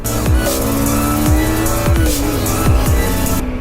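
A Kawasaki Z250SL motorcycle engine pulls hard under acceleration, a loud, steady, close drone whose pitch climbs and drops back several times in quick succession as it runs through the gears.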